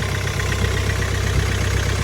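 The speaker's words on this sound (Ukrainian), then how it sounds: "Послухаємо двигуна на холодну." A Hyundai ix CRDi diesel engine idles steadily on a cold start, a continuous low rumble with an even mechanical throb held close and fairly loud throughout.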